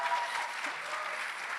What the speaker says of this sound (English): Can we just get one last round of applause for Solomon Matipa?